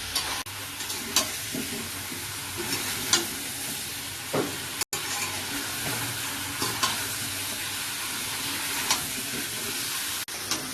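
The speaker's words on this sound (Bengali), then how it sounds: "মাংস থেকে জল বেরোবে, জলটা ভালো করে টেনে নেবে, তেল ছাড়বে" Chicken pieces sizzle and fry in oil in a pan as moisture cooks off, with periodic scraping strokes of a spoon stirring the meat; steady close crackle throughout, no voices.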